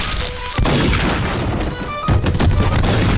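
Heavy booming video game cannon blasts fire in quick succession, two big impacts among dense rattling explosions, loud and close.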